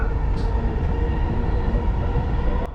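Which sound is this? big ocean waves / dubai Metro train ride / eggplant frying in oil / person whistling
dubai Metro train ride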